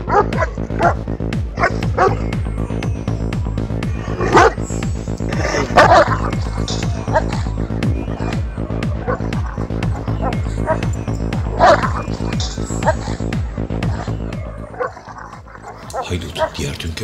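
Several dogs bark, yip and snarl in a chaotic scuffle, with repeated sharp barks and whimpers throughout while a narrator speaks over the commotion.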